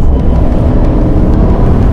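Inside the cab of a 2021 Chevy Silverado 1500 Custom pickup truck, the engine gives a loud, steady low roar as it pulls and accelerates, with constant road rumble and no talking.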